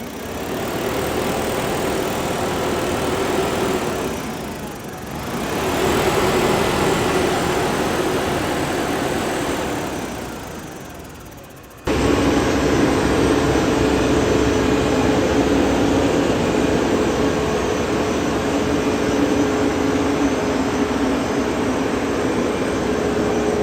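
A Perkins diesel engine in a Ursus 1674 Forte tractor runs steadily nearby with a low, even, fairly soft drone; the tone dips and recovers briefly, then resumes slightly louder and constant.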